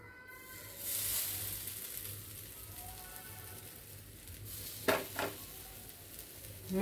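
Pineapple slices fry in a little oil in a pan, a soft steady sizzle with a few sharper crackles and scraping stirs near the end, faint and close.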